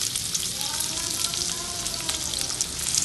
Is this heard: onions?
yes